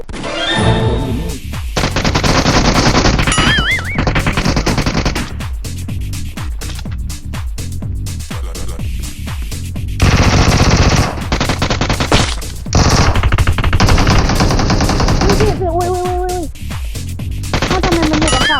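Rapid automatic gunfire bursts in the mobile shooter game PUBG Mobile, loud and dense with brief gaps between volleys and game sound effects layered in.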